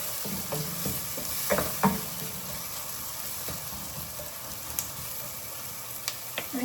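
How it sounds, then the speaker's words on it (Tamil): Onions fry softly in a pan for an egg chutney, giving a quiet, steady sizzle broken by occasional light stirring scrapes and taps. "வெங்காயம் பொரிய வேண்டாம், கிளாஸ் பதத்துக்கு வந்தால் போதும்"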